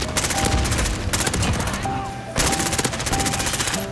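Rapid bursts of AS VAL suppressed rifle fire in Call of Duty: Modern Warfare multiplayer, two long strings of loud, fast automatic shots split by a short pause, with game sounds layered underneath.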